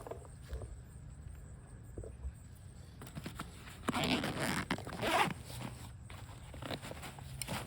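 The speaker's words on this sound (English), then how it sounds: "So you got these super beefy zips here." A sturdy, heavy-duty zipper on a Savotta Jäkäri M brown backpack is pulled open in a few close, rasping strokes, with faint handling rustle around it and no talking.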